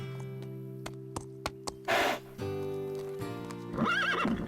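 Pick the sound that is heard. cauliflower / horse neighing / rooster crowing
horse neighing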